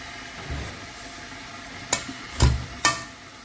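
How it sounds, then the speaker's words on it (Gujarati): Boiled mutton mashed with a potato masher: three or four soft, wet squelching presses, close up and spaced about half a second apart, over a quiet background. "આને હું પટેટો મેશરથી મેશ કરી દઈશ"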